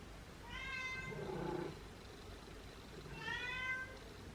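Two cats meow, one drawn-out call followed by a lower-pitched one, then another high meow after a short pause; close and fairly quiet.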